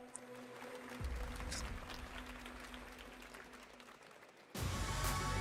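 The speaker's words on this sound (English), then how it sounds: "Very muted clapping." Muted clapping from an audience at the Summer Game Fest showcase, a soft steady patter that runs through most of the clip, then swells louder near the end.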